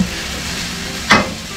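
Salt yakisoba noodles with pork offal frying in a pan over medium-low heat, giving a steady sizzle with a louder burst of hissing spatter partway through.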